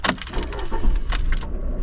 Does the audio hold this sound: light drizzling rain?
no